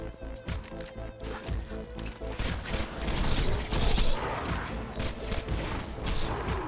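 Enemy gunfire in the Borderlands 2 video game, with dense, rapid bursts of shots and impacts crashing over a busy game soundtrack, loud and continuous throughout.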